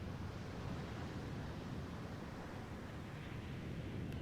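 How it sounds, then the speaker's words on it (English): Ocean waves near a lighthouse make a steady, broad wash of surf, soft and continuous with no distinct breaks, at a moderate distance and without any voices. "He listens to that rhythm of the waves"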